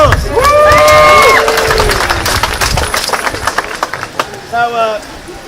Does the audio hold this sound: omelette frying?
no